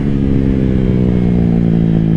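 A 2022 KTM RC 390 motorcycle engine drones steadily and loudly close by, revving with a constant throaty rumble throughout.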